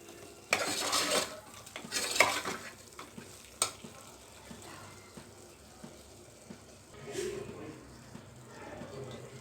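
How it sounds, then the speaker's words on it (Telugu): A spoon stirs coriander powder and garam masala into a mutton bone curry sizzling in a pot, with several scraping, frying bursts near the start and a softer sizzle continuing underneath. "ఒకసారి కలిపేసుకుందాం"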